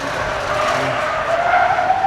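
Race car tires skidding as the driver locks up the brakes on a track course at a Ford street-car shootout, a sustained loud squeal lasting about two seconds with no voices.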